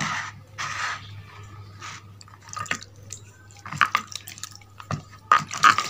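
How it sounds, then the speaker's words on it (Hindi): Water is splashed to wash whitening paste off a neck, heard as soft, scattered drips and splashes with small scrapes at close range and quiet gaps between them, no talking. "अब आपके सामने इसको वॉश करते हैं"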